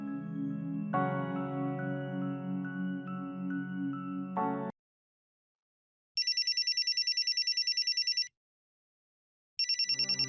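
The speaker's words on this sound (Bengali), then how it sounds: "আরে দিদি, ফোন বাজছে, ফোনটা ধরো" A telephone rings with a warbling electronic ringtone in two loud bursts separated by silence, after a stretch of steady tonal sound.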